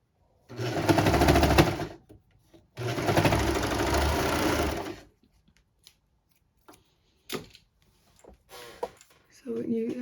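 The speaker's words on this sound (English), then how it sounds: "if you are using a serger, you are encasing the elastic in there" A serger sewing machine stitches elastic into a fabric seam, running in two long loud bursts of rapid mechanical whirring, followed by brief handling clicks and a short spoken remark near the end.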